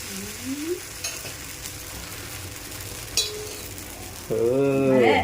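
Dosa batter sizzles and fries on a hot pan, a steady crackling hiss with a few metallic clinks of a utensil and a louder burst of sizzling near the end.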